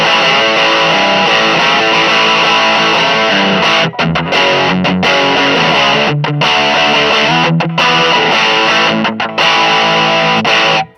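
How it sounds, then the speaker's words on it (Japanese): Electric guitar through a Rat-style squeak distortion on a ZOOM MS-50G+ multi-effects pedal, loud, saturated chords and riffs with brief gaps between phrases, playing alone. "スクイークディストーション。 これラット系のやつですね。"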